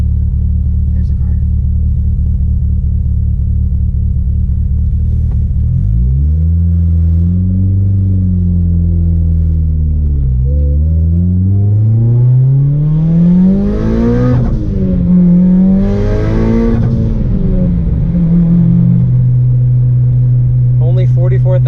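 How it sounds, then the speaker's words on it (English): A car engine rumbles loudly up close, then revs and climbs in pitch as the vehicle passes, with a deep idle settling afterward and a person talking over it. "There's a car."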